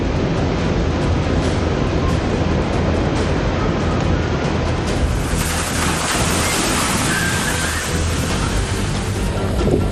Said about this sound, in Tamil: கடற்கரையில் கடல் அலைகள் ஆக்ரோஷமாக காணப்பட்டன.